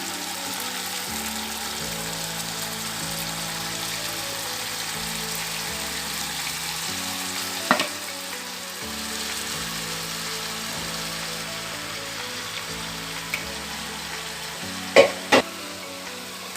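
Small bread pieces sizzle in a pan for bread upma, a steady soft frying hiss that runs the whole time, with a few sharp clinks from the spoon stirring against the pan.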